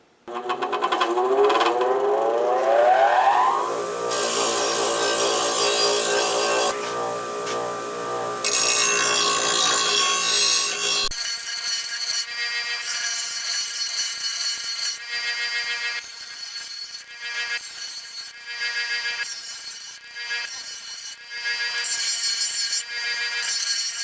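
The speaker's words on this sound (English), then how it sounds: "I'm going to buff them off the wire wheel, and then just kind of brush off this edge here on the grinder" Steel blades from a Husqvarna YTH21K42 lawn mower deck are cleaned on a spinning wire wheel, and their edges are dressed on a bench grinder. A motor whine rises and holds loudly, then breaks into choppy, intermittent grinding bursts.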